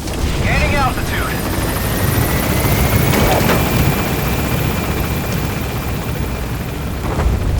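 The helicopter Pequod lifting off in Metal Gear Solid V: The Phantom Pain, a loud continuous rotor roar and engine whine sustained throughout, with radio voices briefly over it.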